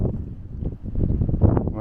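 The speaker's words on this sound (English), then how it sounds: "It's very windy, you probably can't hear me." Strong wind buffets the microphone on open moorland at Ilkley Moor near the Timble Stones, a loud, continuous low roar that swells in gusts over the whole stretch.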